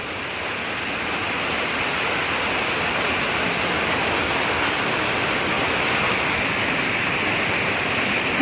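Heavy rain pours down in a storm, a dense, unbroken roar, loud and steady from start to finish with no voices.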